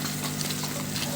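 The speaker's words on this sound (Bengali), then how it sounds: "দেখুন কি সুন্দর মাছ ভাজা হয়ে গেল আমাদের মাছ।" Small chapila fish fry in oil, a short burst of close, steady sizzling and crackling.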